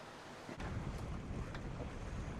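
Cold wind rushes over a sailboat anchored in the Bay of Islands as a steady broadband roar buffets the microphone, with a couple of faint knocks and no voices.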